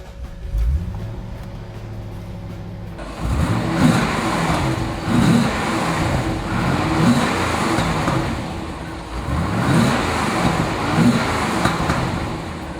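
A 1990 Chevrolet Corvette ZR-1 engine cranks and catches, then idles and revs repeatedly in loud, throaty surges, recorded up close.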